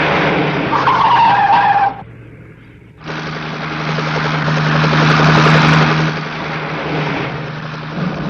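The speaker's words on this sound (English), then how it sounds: "It's a helicopter." A helicopter sound effect from the 1967 Captain Scarlet and the Mysterons series: a loud, steady, droning whir that rises in after a squealing vehicle sound cuts out and then holds near and constant.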